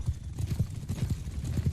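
Horse hooves in Bannerlord v1.5.4, a quick, steady clip-clop of several beats close up, a little muffled, no talk.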